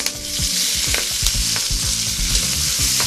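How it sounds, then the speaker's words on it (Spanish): Spinach sautés in melted butter with a dense, close crackling sizzle, while rapid stirring knocks and scrapes rhythmically against the pan. "y nos vamos a hacer ahora el salteado de espinacas con manteca"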